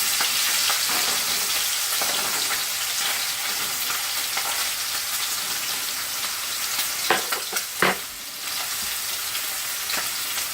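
Pork chops searing on their second side in a hot pan, giving a loud, steady, close sizzle with brief crackling pops and spits toward the end, no voices over it.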